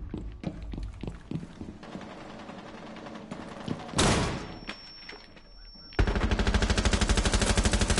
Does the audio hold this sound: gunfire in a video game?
yes